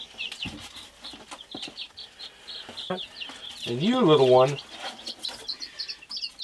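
Young chicks in a brooder give soft clucks and a rising chirpy call at close range, heard under and between a person's gentle talk.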